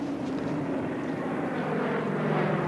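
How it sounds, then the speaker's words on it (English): A Coast Guard propeller plane drones steadily overhead, a constant loud hum with a low engine throb throughout. "First, a Coast Guard plane from Juneau arrived, dropping supplies."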